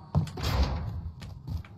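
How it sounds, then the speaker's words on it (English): A door opens in a video game, a short creaking slide with a thump near the start, heard fairly close amid faint game ambience. "Heard somebody open a door."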